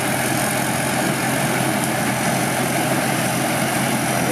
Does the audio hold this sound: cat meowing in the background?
no